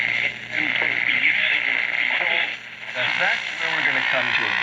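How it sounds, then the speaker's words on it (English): A vintage Zenith 6R 886 radio-phonograph in radio mode plays a steady broadcast, likely voices and music over constant hiss and hum, with two brief dips in level along the way. "show you what the radio sounds like."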